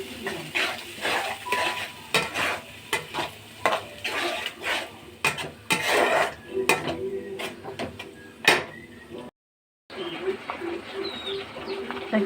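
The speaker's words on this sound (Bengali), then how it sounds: "মশলাটা ভালো করে কষানো হয় না বন্ধুরা, ভালো করে কষে নিচ্ছি।" Spice masala of chilli, cumin and salt being stirred and fried for a fish curry, with repeated scraping and clinking of a spoon against the pan over a light sizzle, uneven strokes at close range and one short silent gap.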